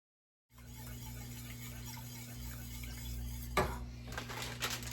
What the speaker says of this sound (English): Now I'm adding just a couple seasonings and stirring it all together.